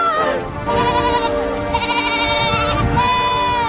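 A goat bleats loudly and repeatedly at close range, a series of wavering, nasal cries that run almost without pause across the moment.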